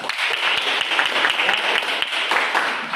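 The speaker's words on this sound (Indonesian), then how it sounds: "berikan tepuk tangan" A classroom of students breaks into applause, a dense, steady wash of many hands clapping together, loud and sustained throughout.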